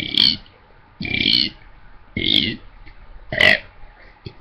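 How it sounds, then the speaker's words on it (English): A person burps out the letters of the alphabet one after another, four loud, evenly spaced belches a little over a second apart, close to the microphone, with a short faint sound at the end. "I could burp my ABC"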